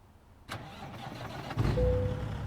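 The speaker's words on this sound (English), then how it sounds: "Let's go ahead and get our engine on" A heavy truck engine in American Truck Simulator cranks and catches, then settles into a deep, loud rumbling idle with a steady low drone, following a click.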